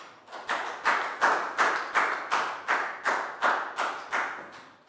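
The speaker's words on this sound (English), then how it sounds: "Big round of applause for Lakau." Classroom of students clapping in unison for a classmate during a Year 4 maths lesson, a steady rhythmic series of about a dozen sharp, evenly spaced claps at moderate volume, with no talk.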